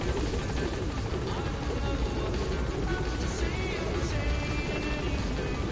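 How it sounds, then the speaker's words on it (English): A customized helicopter in the Metal Gear Solid V: The Phantom Pain video game drones steadily with a loud, dense rotor whir throughout, while a voice talks over it. "there's my snazzily customized chopper"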